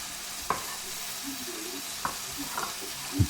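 Pork cheek pieces with mushrooms and tomatoes fry in a pan while a utensil stirs them, giving a steady low sizzle with a few sharp scraping clacks against the pan.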